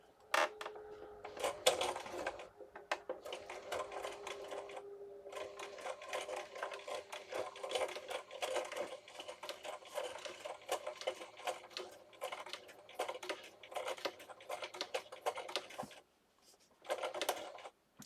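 A sewing machine slowly stitches through several paper layers of a tall, skinny accordion booklet. The needle gives a dense, rapid rattle close by that runs almost unbroken, then pauses briefly before a final short burst.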